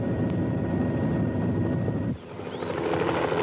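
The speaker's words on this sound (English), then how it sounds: "Hundreds of friends and fans had been scouring the skies for hours for a sign of the helicopter." A helicopter arriving over a school crowd, its loud, continuous rotor drone filling the scene close overhead before cutting to a brief quieter patch and building again.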